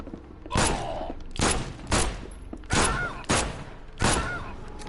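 Gunfire in the video game The Sinking City, about six loud, close shots spaced under a second apart, each with a short decaying tail.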